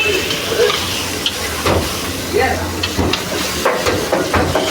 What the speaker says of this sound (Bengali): এখন ভালো করে একটু নেড়ে মশলাটার মধ্যে একটু আলু আর মাংসগুলো কষে নিতে হবে।